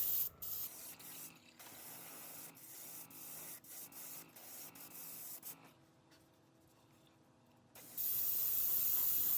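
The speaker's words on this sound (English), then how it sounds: "Then with the airbrush, it's just a simple matter of layering on the base coat." An airbrush sprays base coat onto a BMP-3 miniature tank model in bursts of steady hiss, broken by short pauses and a quieter stretch, then resuming strongly at the end.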